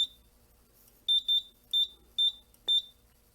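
An addressable fire alarm control panel sounds its alarm as sharp, high electronic beeps in quick pairs and singles, repeating in a steady pattern at moderate volume with nothing else around.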